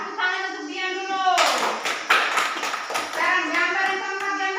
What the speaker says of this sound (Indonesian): Tepuk tangan untuk Dian dulu.